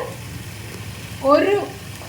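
Vegetables for a masala dosa filling sautéing in a pan, a low soft sizzle that swells briefly into a louder scrape-and-hiss as they are stirred, then settles back.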